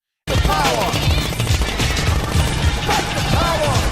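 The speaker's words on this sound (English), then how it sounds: "they pick up their rifles to shoot up bullets in the air, and everyone follows suit" Soldiers in a war film fire rifles into the air in celebration, a dense, continuous burst of close gunfire with sharp cracks and metallic clatter, with music or voices faintly mixed underneath.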